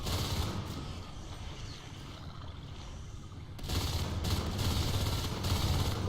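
Dense shotgun fire from Marines battling aliens in a competitive game match, a busy stretch of overlapping blasts that grows louder and fuller in the second half.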